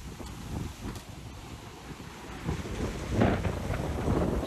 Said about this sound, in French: il fait gris, il y a de pluie et du vent